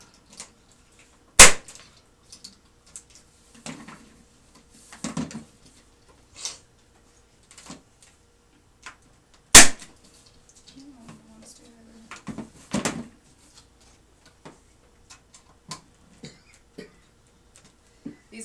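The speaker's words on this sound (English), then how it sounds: "These electric staple guns have safeties on them." An electric staple gun fires staples into fabric corners in sharp, loud isolated snaps spaced several seconds apart, with quieter handling noise and occasional speech between shots.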